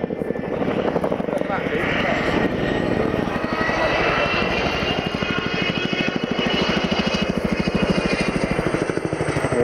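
A Chinook twin-rotor heavy-lift helicopter flying at a Royal Navy airshow at Yeovilton, its rapid rhythmic rotor thudding loud and steady throughout with a droning engine whine, close overhead, while a commentator speaks over it.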